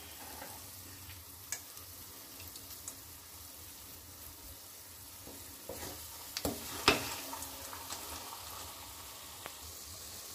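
Moong dal halwa being stirred in ghee, a soft close scraping and faint sizzle with occasional louder clatter of the spoon against the pan, no talking.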